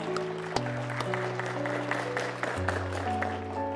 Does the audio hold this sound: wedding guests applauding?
yes